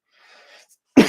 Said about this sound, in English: I'm starting to cough